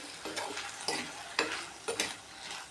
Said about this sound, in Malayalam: ഇളക്കി വഴറ്റി വേവിച്ചെടുക്കാം